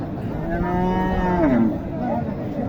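A crossbred cow at a cattle market gives a long, close moo that rises then bends downward, with faint ambient noise around it.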